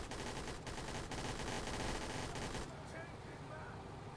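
Machine gun fire targets a Humvee in the military game Blackhawk Rescue Mission 5, as a dense, continuous rattle of rapid shots runs loud for most of the clip before easing into a quieter rumble at the end.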